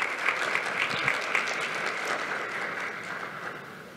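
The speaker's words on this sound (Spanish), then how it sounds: "Nuevamente un aplauso para ella y que nos desarrolle su presentación." An audience applauds a presenter at an academic networking talk, a few distinct claps at first blending into steady clapping that slowly fades toward the end.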